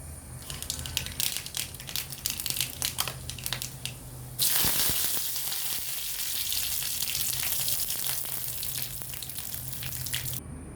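Mustard seeds crackle in hot oil, tempering a homemade chutney: a run of sharp, scattered pops for a few seconds, then a loud, steady sizzle fills the rest of the clip, close and with no talk.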